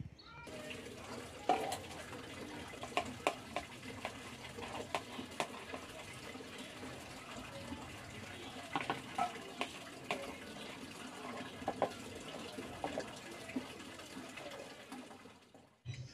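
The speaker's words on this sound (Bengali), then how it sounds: "বসে পড়েছি বাসন মাজতে" Dishes are scrubbed by hand under a running tap, with a steady stream of water and scattered clatters and scrapes of utensils throughout. The sound is fairly faint and no one speaks.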